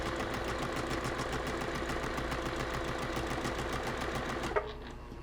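A sewing machine stitches a cross-stitch mug rug in a fast, even mechanical chatter that runs steadily, then stops with a small clunk near the end.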